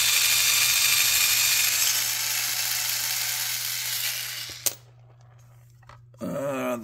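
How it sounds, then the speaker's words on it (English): A small cordless screw gun whirs steadily while backing screws out of the bridge of a Disney Hannah Montana Telecaster, a sustained buzzing drive that fades, stops abruptly, then resumes with a brief rising whine near the end. "I forgot that I had this little screw gun."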